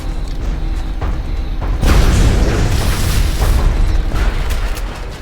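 A missed weapon shot in XCOM: Enemy Unknown, a loud booming burst arriving about two seconds in after mechanical creaks, then a sustained rumbling tail that slowly fades.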